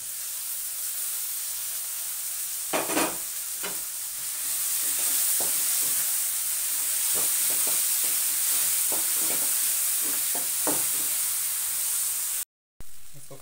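Steady loud sizzle and hiss as chopped tomato hits a hot frying pan, with irregular scraping stirs of a spoon throughout, ending in a brief cut.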